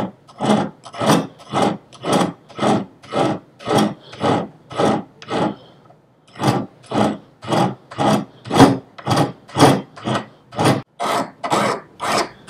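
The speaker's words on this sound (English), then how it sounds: "when you saw me start filing this oval on the narrow ends" Steady rhythmic rasping of a hand file working the edge of a copper seppa, a Japanese decorative sword spacer, about twenty close, even strokes with one brief pause midway.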